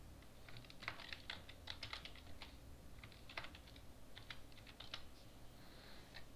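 Typing on a computer keyboard while entering a password, soft irregular key clicks in short flurries over a faint steady hum, fairly quiet and with no talking.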